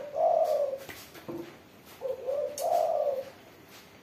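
A pet spotted dove (tekukur) coos loudly and close by in repeated low, rounded phrases separated by short pauses, with no talk.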